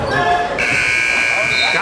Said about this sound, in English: Got it in at the buzzer.